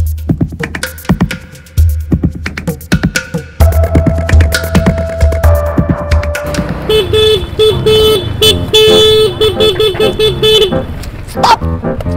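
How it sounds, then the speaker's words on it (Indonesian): A car horn honks loudly on a busy street in a series of short and longer blasts, with engine noise underneath and some talking mixed in. "buat apa lo bunyiin klakson sekeras itu, ha?"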